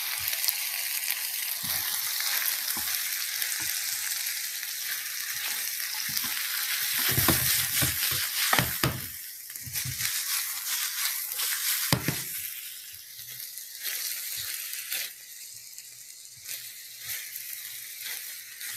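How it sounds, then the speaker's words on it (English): Food sizzles steadily in a flat pan, stir-fried without a wok. A continuous hiss and crackle runs throughout, broken by the scrape and clatter of stirring. "Stir frying without a wok."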